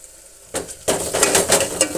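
Green chillies, onion, garlic, cumin and curry leaves drop into hot oil in a pan, bursting into a loud, close crackling sizzle after a brief clink of the pan, the spitting continuing steadily without talk.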